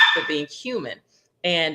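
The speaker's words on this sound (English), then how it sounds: "I don't know if you can hear my dog in the background" A pet dog barks in the background of a home conversation, with short yappy barks mixed in with and following a person's speech, fairly close and moderately loud.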